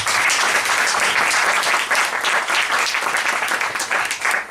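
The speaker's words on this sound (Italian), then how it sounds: "Ovviamente un applauso anche a loro." Loud, close applause from an audience at a book presentation, many hands clapping in a dense, continuous burst for the readers, holding strong throughout with slight swells and no speech.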